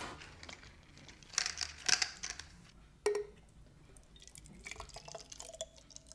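A pet's water container is refilled indoors, with sparse drips, light clinks and crinkling handling noises, quiet overall with a few sharper bursts.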